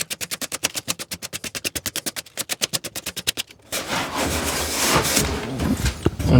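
PVC plumbing pipe being roughed up with sandpaper in a rapid rhythmic back-and-forth rasp of about thirty quick strokes, close and loud, then giving way to a denser, smoother scuffing noise.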